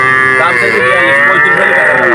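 A calf lows at a busy cattle market, a drawn-out moo rising over crowd noise and nearby talk.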